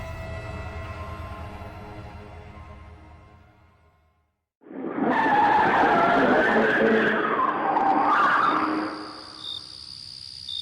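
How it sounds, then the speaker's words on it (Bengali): A car engine drone fades out and stops, followed by a loud burst of skidding and squealing noise. The effect comes from a Bengali audio story, with no speech over it. "একটা বিচিত্র শব্দ করে সন্তোষবাবুর গাড়িটা থেমে গেল"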